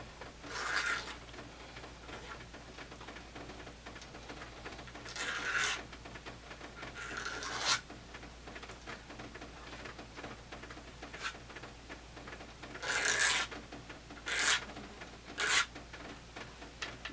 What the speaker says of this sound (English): I'm going to scrape it outwards.